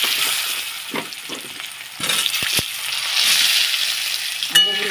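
Potatoes frying in a wok of oil tempered with cumin and bay leaves, a close, steady sizzle with scattered stirring scrapes and knocks and a small metallic clink near the end, without speech.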